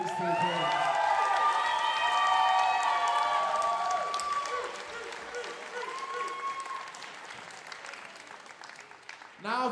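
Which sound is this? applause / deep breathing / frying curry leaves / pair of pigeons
applause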